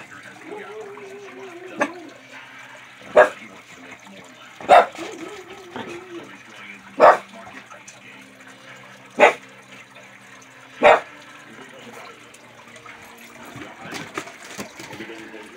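A dog barks sharply five times at roughly two-second intervals, loud and nearby, with running water and a faint voice in the background.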